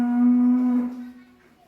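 A horned cow about 120 cm tall, with a white patch on its head and offered for sale, gives one close, loud moo. The call is a strong, steady low tone that fades out over the last half second.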